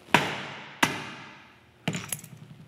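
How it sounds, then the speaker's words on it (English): Three sharp metallic hammer blows strike a 7/8 inch disc punch driven through thin sheet metal to cut a washer in a jewelry studio, the first two ringing out and decaying, the last followed by a few quicker taps. "I'm going to hammer this through."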